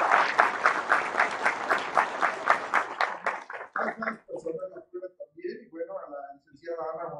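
An audience at a professional degree graduation ceremony applauds steadily, dense clapping that thins out and fades as a voice begins speaking over it.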